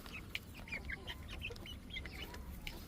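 Black satin silkie chickens cluck softly in a run while pecking at a feeder, with several short, chirpy clucks scattered close by over a low steady background murmur.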